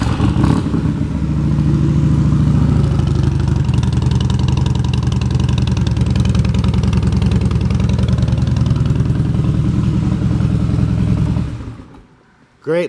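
A 2015 Harley-Davidson Dyna Wide Glide with aftermarket Vance & Hines pipes rumbles at a loud, steady idle, the deep loping exhaust running close and continuous for about eleven seconds before cutting off.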